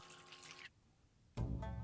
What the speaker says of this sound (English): rinse them under running water and then place onto a plate